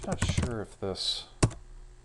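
Speech fills the opening of the clip, then a few sparse clicks follow as someone types LaTeX in vim on a computer keyboard.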